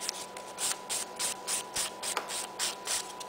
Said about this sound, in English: So it's just filing with the 180 file.